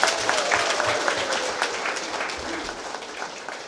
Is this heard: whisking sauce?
no